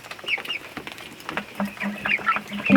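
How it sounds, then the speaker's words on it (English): Large chickens clucking close by near their coop, a busy run of short, uneven clucks and calls spread across the whole moment with no talking. "these guys are our big chickens"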